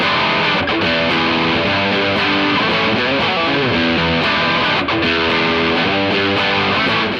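Electric guitar chords played through an Orange Getaway Driver overdrive pedal, loud and dense with a distorted, saturated tone. The chords ring out in steady strummed phrases, with no voice over them.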